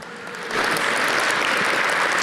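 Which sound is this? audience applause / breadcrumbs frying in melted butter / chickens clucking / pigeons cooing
audience applause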